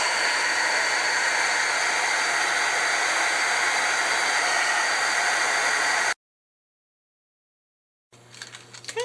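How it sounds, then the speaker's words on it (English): An embossing heat tool blows hot air for Valentine's card embossing, a steady loud hissing roar that runs for about six seconds, cuts off abruptly, then faint handling noises follow. "I'm going to take my embossing tool and get that heating up"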